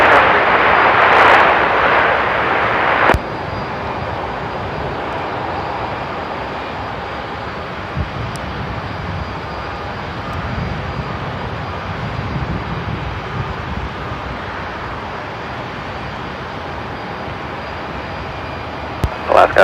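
An airliner takes off from runway 34 right at Seattle-Tacoma airport. A broad, steady engine roar holds for the whole stretch, loudest at the start, then settles into a sustained rumble as the jet recedes.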